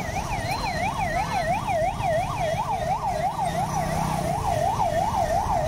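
An ambulance siren wails in a rapid rising and falling cycle on a street in Morbi, India, loud and steady over traffic rumble.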